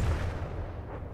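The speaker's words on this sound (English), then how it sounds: "I want a large shell explosion." A large-calibre shell, around 240 mm with a wide flak radius, bursts in the naval combat game From The Depths: one heavy, low rumbling boom that rolls on and fades over about a second.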